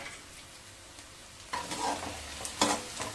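Onion, cinnamon, cloves and fennel sauté in a pan, a soft continuous sizzle that swells into louder stirring scrapes and clatters in the second half.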